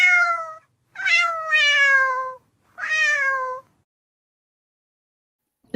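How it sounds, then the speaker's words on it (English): Three clear, close cat meows, the second long and drawn out, separated by short pauses, with silence after them and no talk over the sound. "I love that cat."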